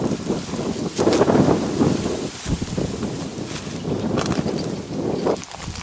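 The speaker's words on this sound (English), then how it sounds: "since it is a very open area, it is extremely windy right now." Steady broadband wind buffeting the microphone in a very open sand-barren area, with gusts swelling and easing throughout and no voices.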